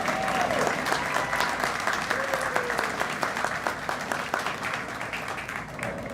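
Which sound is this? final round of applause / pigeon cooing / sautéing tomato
final round of applause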